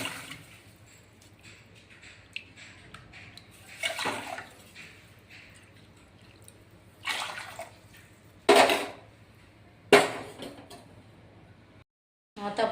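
Water splashes and pours into a pot in a few separate bursts for sabudana kheer, close by, with quiet kitchen handling between the pours.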